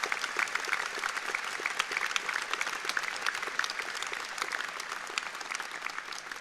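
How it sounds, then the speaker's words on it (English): Graduates at a university graduation ceremony in Derby clap in a dense, even burst of applause, a steady patter of many hands filling a large hall, fairly distant and moderately quiet. "Give yourselves a clap."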